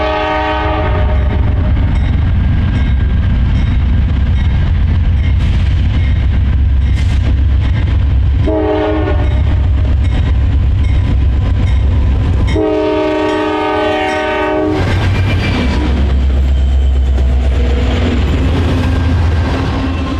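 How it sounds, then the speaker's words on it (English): A Norfolk Southern freight train of empty oil tankers, led by a Heritage SD70ACE locomotive, rumbles past loudly on the Chicago Line, sounding several long horn blasts over steady rolling wheel noise. "The 65R is composed of empty oil tankers from a previous 64R."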